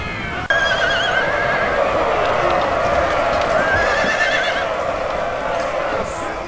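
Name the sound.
cavalry horses in melee in Napoleon: Total War video game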